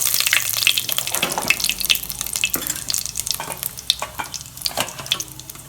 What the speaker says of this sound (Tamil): எண்ணெய் ஊற்றிட்டேன் சோம்பு கொஞ்சோண்டு போட்டுக்கலாம் லைட்டாக போட்டால் போதும்